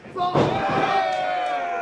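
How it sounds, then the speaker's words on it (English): At a live wrestling event, a wrestler punt-kicks a chair, landing as one sharp slam over crowd noise, with commentators talking throughout. "Just punt kicking the chair."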